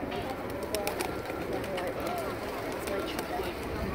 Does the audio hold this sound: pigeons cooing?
yes